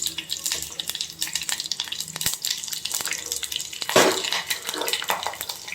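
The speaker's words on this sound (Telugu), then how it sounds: "ఆయిల్ వేడెక్కాక పోపు గింజలు వేసుకుంటున్నాను." Mustard and other tempering seeds with chopped green chillies frying in hot oil in a pan for a ridge gourd dal, giving a steady close crackle with scattered stirring clicks and a louder burst of spatter midway.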